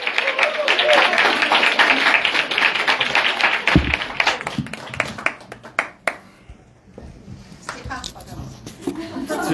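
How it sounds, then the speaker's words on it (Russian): Loud, dense applause from a comedy club audience greets a performer for several seconds, then thins into scattered claps and fades as the room quiets, with voices under it. "Пожалуйста, ваши аплодисменты."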